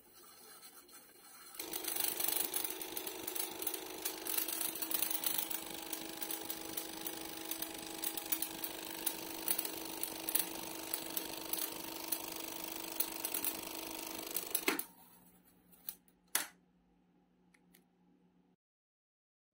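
An electrical relay in an interrupter circuit driven by a ZVS driver with a burning arc buzzes steadily for about thirteen seconds at moderate level, then cuts off with a sharp click followed by a few faint clicks.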